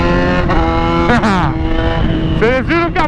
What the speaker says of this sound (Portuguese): Vocês viram que a moto tá automática. Ela tá trocando de marcha sem embreagem.